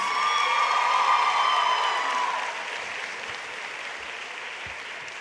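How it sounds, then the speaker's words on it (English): Graduation crowd at a 2017 high school commencement applauding and cheering, with a dense wash of clapping and whoops that swells loudly for the first couple of seconds, then eases to steadier, softer applause. "let's give our parents and families a big round of applause and a thanks"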